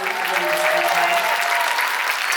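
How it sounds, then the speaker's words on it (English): A concert audience at a show at Mattamy Theatre, Milton, Ontario, claps loudly and continuously, dense applause filling the whole stretch with a few faint cheers mixed in. "Give a huge round of applause for our amazing crew."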